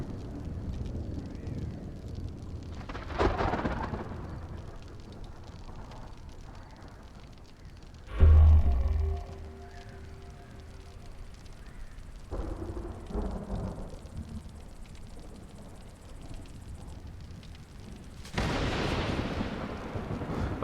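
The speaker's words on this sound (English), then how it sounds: "I'm hoping this thunderstorm will be over by then." Thunderstorm in the survival game Stranded: Alien Dawn, with low rolling thunder rumbles rising at intervals over a steady ambient bed, including a sharp, loud crack-like boom near the middle and a longer swelling roll toward the end.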